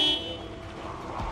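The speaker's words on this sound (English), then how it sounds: "Why is the horn different and slow?" Car horn in the Project Zomboid video game sounding briefly with a flat, slow tone over a low rumbling background, close and moderately loud.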